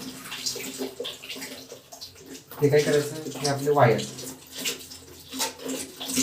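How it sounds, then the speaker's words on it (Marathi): Water running from the outlet of an instant electric water heater, a steady close splashing flow beneath someone talking throughout. "मधून पाणी चालू झालं"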